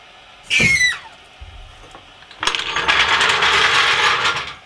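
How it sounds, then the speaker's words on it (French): A torque wrench tightens the wheel bolts on a SsangYong Rodius during rear axle work, with a sharp metallic squeak followed by a burst of close, loud ratcheting clicks. "J'ai serré toutes les vis de roue au couple"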